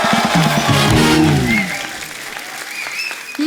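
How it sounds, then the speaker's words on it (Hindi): A TV studio audience applauds guests Parineeti Chopra and Sidharth Malhotra, loud and dense at first, then thinning to a softer wash. Faint voices and tonal sounds run underneath. "जोरदार तालियां इस ब्यूटीफुल कपल के लिए।"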